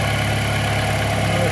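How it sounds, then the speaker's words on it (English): A Dodge Journey 2.4 engine with an old motor idles steadily with a slightly noisy exhaust, producing a continuous loud drone and low rumble with no variation throughout. "And the exhaust is a little noisy."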